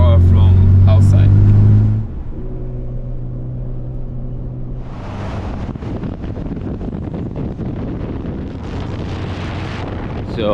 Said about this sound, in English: I'm driving the DAI33, which is really fast